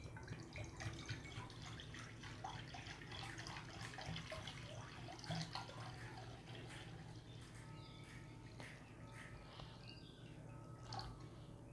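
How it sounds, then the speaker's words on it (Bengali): Cold water is poured for pani puri, a faint, steady trickle and splash into a vessel, heard quietly and alone. "এখানে ঠান্ডা পানি নিয়ে নিচ্ছি।"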